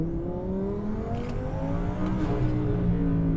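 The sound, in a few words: 1000HP twin turbo Audi R8 accelerating at full throttle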